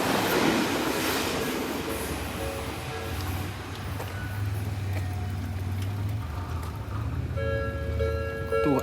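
A blue line commuter train rumbles past on its rails, a steady close roar with low rolling drone and brief squeals toward the end, heard without any talk.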